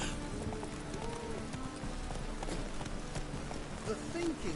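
Roach, the horse in the video game Witcher 3, trots with a steady clip-clop of hooves throughout, heard beneath a voice speaking.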